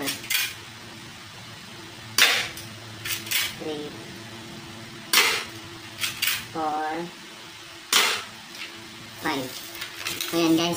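Five sharp shots from a C.10A+ spring-type airsoft gun fired at a carton, spaced a second or two apart, with a voice speaking between and around the shots.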